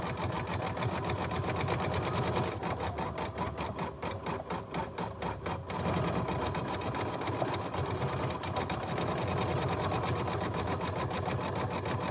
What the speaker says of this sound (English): let's just see the magic happen at the machine